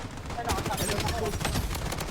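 Video game gunfire in a shooter match, dense rapid bursts of shots crackling continuously and loud throughout, with a player's voice partly mixed underneath.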